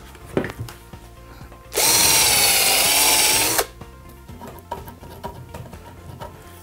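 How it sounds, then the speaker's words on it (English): A power drill bores a pilot hole into pallet wood for a workbench, a loud, steady whirring burst of about two seconds between quieter handling knocks and taps. "And drill your pilot holes."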